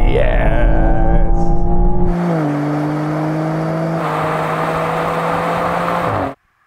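BMW 3 Series Touring engines pulling hard from a 50 mph rolling start in a drag race, a loud steady drone that steps up in pitch and then cuts off abruptly.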